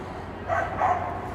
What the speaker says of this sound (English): that dog is going crazy at that other dog